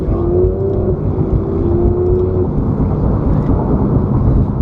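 A Porsche GT3's naturally aspirated 3.8-litre flat-six engine drones loudly and steadily with a rising whine, close up and continuous throughout, with no talk over it.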